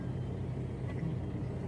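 A car engine hums low and steady as the vehicle is driven, a continuous muffled rumble from inside or close by with no other sounds.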